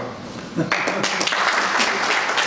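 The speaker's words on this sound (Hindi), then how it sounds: "कृपा करके उनकी शान में आन में और उनके लिए जोरदार तालियों से उनका धन्यवाद।" Audience applause at an industrial convention in India, a dense wash of clapping that swells in loudly after a quieter start and holds steady, with some voices mixed in.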